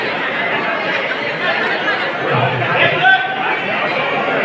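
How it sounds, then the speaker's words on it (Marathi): Busy chatter fills the Vatvriksha Swami Samarth temple at Akkalkot on a crowded Thursday, many voices overlapping into a continuous murmur that stays fairly loud and close throughout. "आज गुरुवार असल्यामुळं गर्दी आहे"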